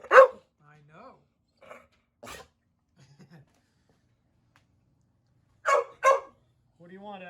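A dog gives a few short barks and yips spaced apart, close and fairly loud with quiet gaps between them, and a person talks softly nearby.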